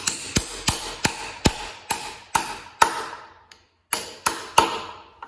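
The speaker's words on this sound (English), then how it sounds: "By hitting on it with a hammer." Hammer tapping a crank seal into place on a 1971 engine, about ten sharp metallic strikes in a steady rhythm with one brief pause near the end, close and loud.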